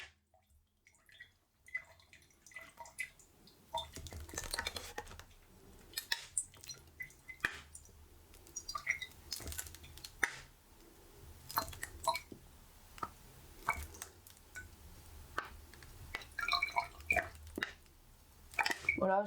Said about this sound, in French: on remplit ce verre avec un tiers, il a dit, un bon tiers. Un bon tiers du verre en fait avec du vinaigre blanc.